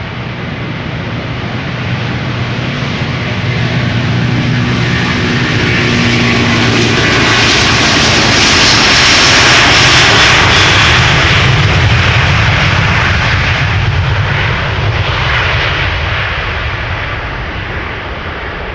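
Jet airliner engines at takeoff thrust on a departure from Amsterdam Schiphol Airport, a loud, steady, broadband roar that swells to a peak mid-way and then eases slightly as the aircraft passes, with no talk.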